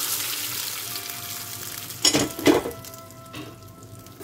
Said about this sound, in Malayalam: വറവ് ഇതിലേക്ക് ഒഴിച്ചു കൊടുക്കാം.